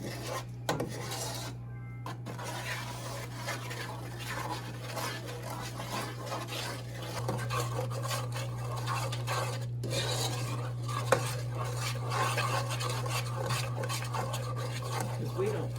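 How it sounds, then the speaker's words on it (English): Butter melting in a pot on a stovetop is stirred with a spoon, a continuous close scraping and rubbing against the metal, with a steady hum in the background and occasional quiet voices. "You can stick that on the stove and stir it."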